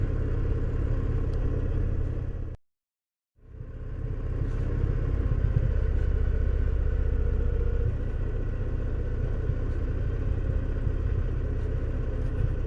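A Victory Vision motorcycle rides slowly along a dirt road, its engine giving a steady low rumble that cuts out briefly near the start and then carries on evenly.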